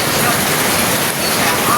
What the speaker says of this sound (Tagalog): Ayan ang ulan, oh.